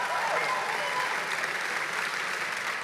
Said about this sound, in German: So, lass einen Applaus geben, Tobias